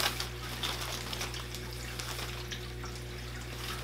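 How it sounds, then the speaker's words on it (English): Water running from a tap while a philodendron's leaves are washed, a faint, steady hiss and splash with slight shifts as the flow hits the leaves, over a low background hum. "I'm gonna wash all these leaves."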